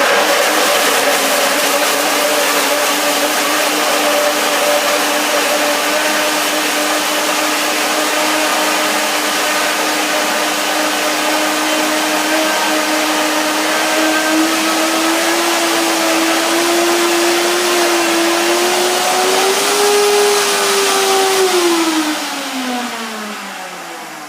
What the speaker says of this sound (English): We will see our blender dance.